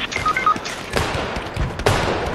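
Bursts of rapid gunfire from a video game crackle and pop in quick volleys, loud and close, with several sharp shots layered together.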